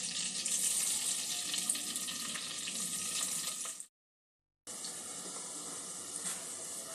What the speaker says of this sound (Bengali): মাখনটা গলে গেছে, পনিরগুলো একটু ভেজে নেব।